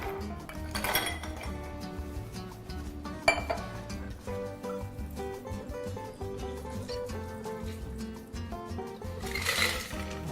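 Large cubes of ice clink into a glass for a margarita with a few bright, close knocks spread apart, between softer rattling of ice and glassware.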